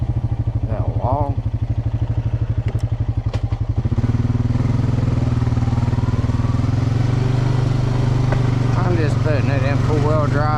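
On the rocky Hatfield-McCoy Trails, an off-road vehicle engine chugs in a steady, loud rhythm, then settles into a heavier continuous drone while crawling over loose rocks, with faint clatter from the terrain.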